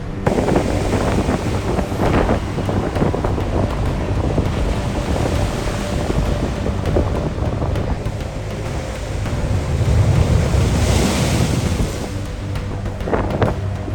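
Heavy sea waves surge onto the shore on the Thiruvananthapuram coast during a swell-surge sea attack, a loud continuous roar and wash mixed with strong wind buffeting, with no voices.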